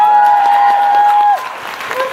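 Convention audience at a 2017 Vancouver fan convention panel breaking into loud, sustained applause, with a steady high tone ringing over the clapping before it fades slightly.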